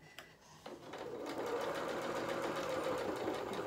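A sewing machine stitches over fur fabric while sewing a soft toy's festive angel dress, starting with a couple of brief clicks and then settling into a steady, close, continuous whirring run.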